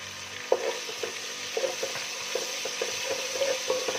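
Ginger garlic paste and green chillies frying in a pan, a soft steady sizzle with occasional scraping and stirring clicks, quiet and close, no talking.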